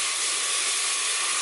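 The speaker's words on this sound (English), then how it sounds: "So it's starting to steam up" Corned beef curry steams in a pot, a loud, continuous, even hiss throughout.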